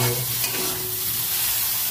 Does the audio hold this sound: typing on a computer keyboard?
no